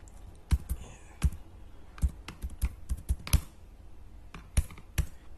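Typing on a computer keyboard while entering data into an Excel spreadsheet: irregular bursts of sharp, close key clicks with short pauses between them, and no speech.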